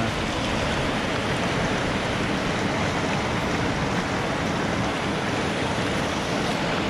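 The Kali River rushing along the India–Nepal border near Darchula, a loud, steady broadband roar of flowing water with no breaks, close and constant throughout.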